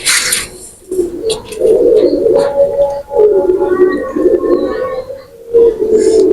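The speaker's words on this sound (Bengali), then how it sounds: "এটা আমার একটা নীলা কবুতর" A blue Pakistani pigeon coos up close, loud throaty rolling coos repeating in a steady run with brief pauses between phrases.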